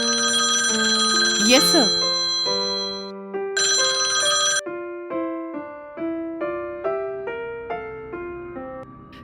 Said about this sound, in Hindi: पुलिस स्टेशन में सुबह सुबह फोन की घंटी बजने लगी